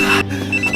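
A telephone rings in a short, steady electronic trill with a brief gap in the middle, clear and fairly loud with no voices over it.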